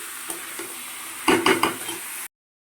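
Chicken pieces fry in a pan with a constant low sizzle, while a spoon stirs and taps against the metal a few times in a quick cluster before the sound stops abruptly.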